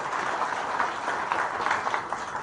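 Applause from the crowd at a political gathering: a dense, steady clatter of many hands clapping together, even in level, filling the whole moment with no voices on top.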